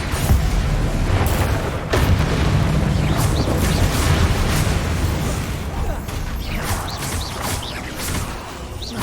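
Blasting spells Confringo and Bombarda go off in Hogwarts Legacy combat, a dense run of booming impacts and crackling bursts over a rumbling game soundtrack, with a voice casting spells over it.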